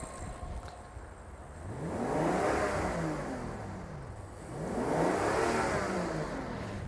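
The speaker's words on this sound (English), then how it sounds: "But what will happen if I rev the engine?" A Rolls-Royce Phantom engine revs twice, each swell rising and falling in pitch as the engine spins up and settles, heard up close over a steady idle with no talking.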